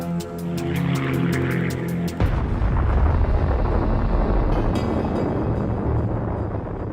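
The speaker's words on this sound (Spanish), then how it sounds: "Muy cerca, en el campo de prisioneros 17, Lester Tenney ve la explosión" Atomic bomb explosion over Nagasaki: a dense, rumbling roar that swells abruptly after a rhythmic tone and then sustains as a loud, continuous blast noise, with no talking.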